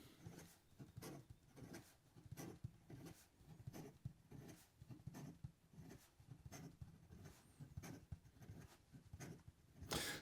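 Quick, rhythmic scratching of a Jean-Pierre Lepine Winston fountain pen nib writing fast on paper, faint and close, with a steady run of short strokes and no talking.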